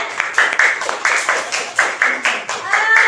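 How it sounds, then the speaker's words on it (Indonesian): A class of schoolchildren clapping hands together in a rhythmic pattern of short grouped claps, close and fairly loud, with a few voices mixed in. "tepuk tangan dulu ya"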